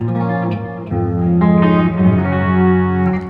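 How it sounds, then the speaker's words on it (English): An EVH 5150 Stripe electric guitar, hot-rodded, played through an MXR 5150 Overdrive pedal, ringing out sustained, heavily distorted chords with a thick, saturated tone, loud and alone. "I'll be using the 5150 Overdrive for the bulk of the distortion."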